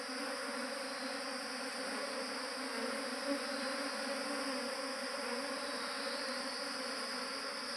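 A swarm of honey bees buzzes continuously in a dense, even drone, close by and steady for the whole stretch, with no voices.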